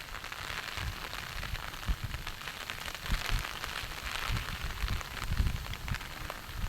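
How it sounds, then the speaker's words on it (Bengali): Heavy rain pours down in a steady hiss alongside wind, with scattered drops and soft thumps spread across the whole stretch and no voices. "যেরকম বৃষ্টি সেই রকম বাতাস"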